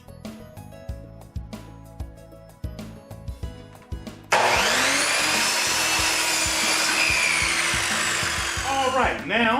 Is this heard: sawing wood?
yes